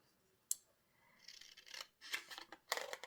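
Scissors trimming around the bold outline of a paper vintage Christmas card, with a single sharp snip followed by a run of quiet, close cutting strokes that pick up toward the end, with no voices.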